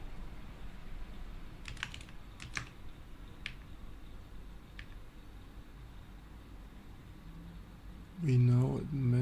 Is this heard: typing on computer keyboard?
yes